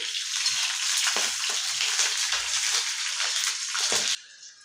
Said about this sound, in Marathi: लसूणही फ्राय झालेली आहे